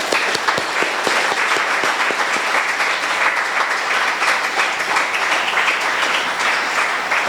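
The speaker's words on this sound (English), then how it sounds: "I'd like you to give a round of applause to all of our volunteers who helped make this event possible" An audience at a lightning talks event applauds the event volunteers: dense, steady clapping from many hands that fills the whole stretch at an even loudness.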